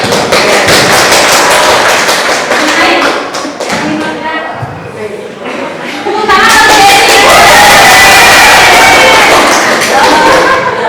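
Applause at a school teachers' session fills the room in dense, loud clapping that dips briefly midway, then swells again even louder toward the end.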